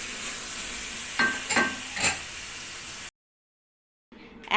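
Mutton liver frying in a pan, a steady hissing sizzle broken by a few louder stirring scrapes, then a brief cut to silence before the sizzle returns.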